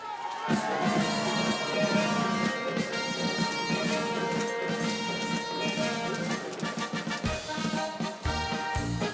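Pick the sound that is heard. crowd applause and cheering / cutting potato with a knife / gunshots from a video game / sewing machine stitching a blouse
crowd applause and cheering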